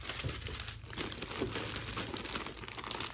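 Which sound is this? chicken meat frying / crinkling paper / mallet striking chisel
crinkling paper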